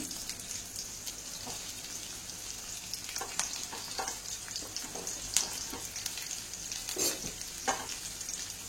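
Garlic is stirred and fried in oil in a pan for mint rice, a faint low sizzle with scattered scraping clicks of the spoon, close but quiet.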